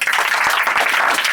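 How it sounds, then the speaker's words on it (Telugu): A worship congregation at a Sunday church service claps together, with dense, sustained applause that fills the room from start to finish. "చప్పట్లు కొట్టండి."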